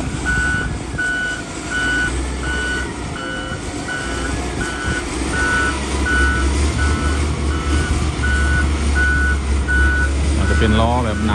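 A compactor roller works a dam crest, its heavy diesel rumble steady and loud while regular reversing beeps repeat evenly throughout.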